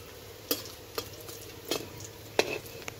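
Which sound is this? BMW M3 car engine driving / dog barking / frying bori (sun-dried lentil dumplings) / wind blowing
frying bori (sun-dried lentil dumplings)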